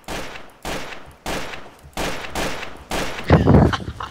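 Gunfire in the video game Trouble in Terrorist Town, a run of loud, sharp shots spaced about half a second apart, followed by a denser burst near the end.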